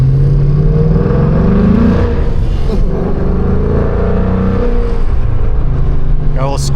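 Straight-piped Ford Mustang engine revving loudly on the road on a chilly day, a deep rumbling drone that swells and falls, with a person talking over it.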